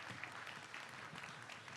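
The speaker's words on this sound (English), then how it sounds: "And a round of applause for our panelists." An audience applauds panelists at an economic forum session in a large hall, with steady, even clapping from many hands heard at a distance and fairly quiet.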